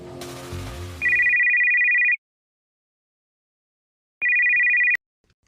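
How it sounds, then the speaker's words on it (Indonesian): An incoming-call telephone ringtone sounds loud and close in two electronic bursts, a longer one and then a shorter one after a pause, following a brief swoosh-like effect at the start. "Halo Max, ada apa kau telepon aku?"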